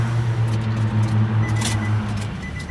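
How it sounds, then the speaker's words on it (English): A 2005 Nissan Altima with a crank-no-start fault, its engine cranking over without firing, a steady rhythmic starter churn for about two seconds, then a faint click. "I'll go ahead and just show you this while I crank it here"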